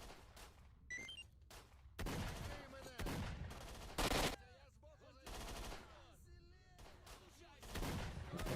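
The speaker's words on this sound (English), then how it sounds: "That machine gun sounded like Robocop." Machine gun fire in the video game S.T.A.L.K.E.R. rattles out in several loud, short bursts separated by pauses, with faint background sounds and scattered other shots between them.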